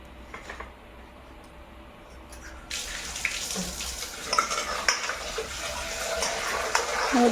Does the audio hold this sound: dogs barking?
no